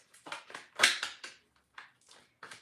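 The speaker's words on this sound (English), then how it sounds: "I'm not done shuffling yet." Tarot cards are shuffled in short, crisp bursts of papery riffling and slapping, about eight quick strokes in an uneven rhythm. The sound is close and clear with no talk over it.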